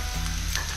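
Onions and garlic sizzle in a pan, a steady close hiss of frying with no voices.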